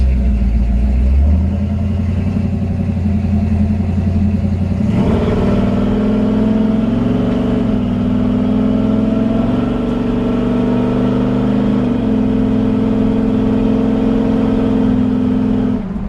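A 1949 Ford F-1 truck engine runs loud and close while driving, starting with a low rumble and then revving up into a steady, droning roar that holds with slight pitch shifts as the truck moves along.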